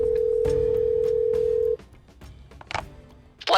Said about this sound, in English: Pulls out his phone, presses the speed dial, calls his work.